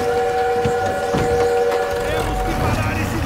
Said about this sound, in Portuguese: Temos que parar esse trem!